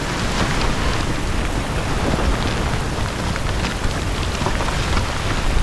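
Heavy, steady rain pours down continuously during a mountain storm, a dense close wash of drops with wind, unbroken and loud throughout.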